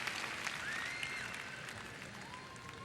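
Crowd applauding at the 2004 U.S. Olympic women's gymnastics trials, a steady, moderately distant round of clapping and cheering that holds throughout, with a few whistles.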